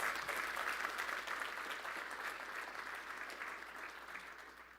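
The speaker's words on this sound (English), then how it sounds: "we deserve a freaking round of applause." Audience at an industry forecast event breaks into a steady round of applause, fairly faint and even, gradually tapering over about five seconds.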